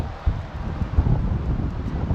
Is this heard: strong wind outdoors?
yes